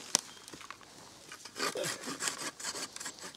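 A folding saw rasps through wood in a run of uneven strokes, quiet at first and then louder and steadier, heard close up with no talking.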